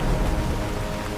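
Steady rain pours down on an evening village, a dense, even hiss of drops on surfaces with a low rumbling undertone, continuous and loud, without any voices.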